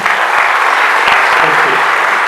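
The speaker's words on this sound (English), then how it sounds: "Please give them a massive round of applause." A brief, loud burst of sustained clapping from a conference audience at a real estate event, with a faint voice underneath.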